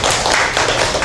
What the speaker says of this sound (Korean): 박수 많이 주시죠.